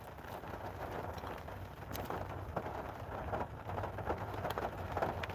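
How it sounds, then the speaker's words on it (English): Steady rain falls in a continuous hiss with scattered sharper drops, fairly close and unbroken, with no talking. "Can you turn the rain down?"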